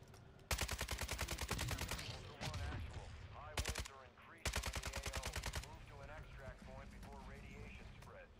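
Rapid automatic gunfire from a Call of Duty DMZ raid comes in several loud, close bursts, with a voice talking between and under the shots.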